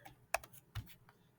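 A few quick keystrokes tap on a computer keyboard, close and faint, a brief cluster of clicks with no talking.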